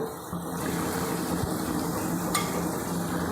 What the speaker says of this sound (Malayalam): നമ്മുടെ വറുത്ത് വെച്ചിരിക്കുന്ന ചെമ്മീൻ അങ്ങോട്ട് ഇട്ട് കൊടുക്കാം നീ ഗ്രേവിയിലൊന്ന് മിക്സ് ചെയ്യാം